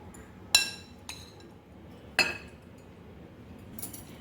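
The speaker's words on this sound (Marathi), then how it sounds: "आता हा गोलना सर्व करण्यासाठी आपण दुसऱ्या बाउलमध्ये काढून घेऊया." A spoon clinks against bowls while a spring onion dish is transferred into another serving bowl: three or four sharp, separate metallic taps spaced over a few seconds against a quiet background.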